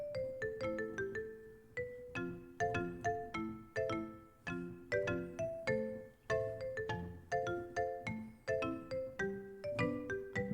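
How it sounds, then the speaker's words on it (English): Church bell preset on a Kawai MP7SE digital keyboard, played as a run of struck bell tones with bright ringing overtones, each note decaying before the next in a steady melodic sequence, clear and close. "That's the church bell."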